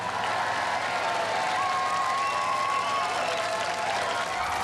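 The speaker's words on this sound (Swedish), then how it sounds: "Självklart applåder för Little Fly som alltså slår ut Tiberius." Studio crowd at a Robot Wars arena applauding a winning fighting robot, a continuous even roar of clapping and crowd noise with a faint tonal whine running over it.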